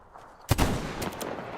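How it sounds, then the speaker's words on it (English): A single loud, close gunshot in the shooter game Metro Exodus, with a rumbling tail and a few smaller cracks after it. "One shot headshot."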